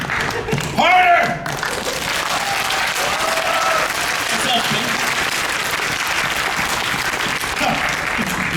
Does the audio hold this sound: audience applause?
yes